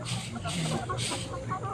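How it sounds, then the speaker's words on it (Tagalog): Farmyard chickens squabbling and fighting, a busy run of clucks and squawks at close range over steady background noise, with a human voice faintly mixed in. "yung mga manok natin sobrang kiata. Kung saan tayo, dyan din yan sila. Ayan, nag-aaway, naglulupaday pa sila."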